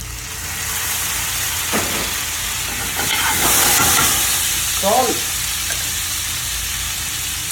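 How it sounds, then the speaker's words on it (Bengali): Onions frying in a pan until golden, with a steady sizzling hiss and a few stirring scrapes partway through; the sound is close and moderately loud, with no talk. "পেঁয়াজটা গোল্ডেন কালার হয়ে যাবে ফ্রাই করি"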